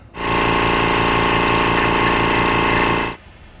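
Werther or Fiac quiet air compressor running close by, with a steady, loud, pulsing motor drone that starts abruptly, holds for about three seconds, then cuts off into a quieter hiss.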